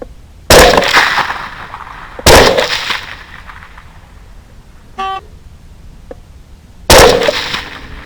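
Three sharp, loud rifle shots spaced a few seconds apart, each cracking and then echoing off brush while hunting a hog with Barnes LRX 127 gr bullets, with a brief faint squeal between them.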